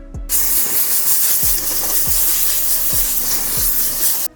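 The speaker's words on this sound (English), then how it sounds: "then we can blow it out with some of compressed air" Steady broadband hiss of compressed air blowing through a car interior during detailing of a 300k-mile wrecked Mazda, continuous and close for about four seconds, with faint low thuds recurring underneath.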